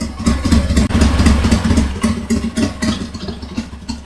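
A vintage Harley-Davidson Sportster Ironhead motorcycle engine runs steadily after a carburetor rebuild, a loud, close, rough low rumble with mechanical clatter that holds for about four seconds without any talk over it.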